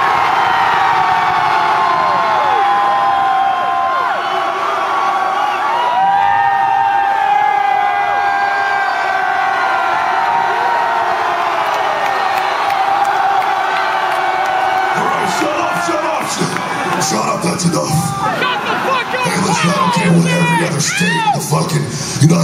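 A concert crowd at a metal show in the Marquee Theater, Tempe, screams, whoops and cheers in a sustained roar, with shrill individual yells rising above the mass and surging louder near the end.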